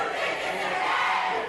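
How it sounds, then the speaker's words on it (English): Raucous crowd objecting at a Chicago City Council meeting, a continuous dense roar of shouting voices, loud and unbroken throughout the brief moment. "The objections of one of the more raucous crowds in recent Chicago City Council history."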